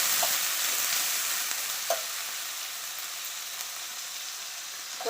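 Green chillies sizzle and crackle in hot oil while being stir-fried for cabbage palya, a steady close frying hiss with a few light stirring clicks.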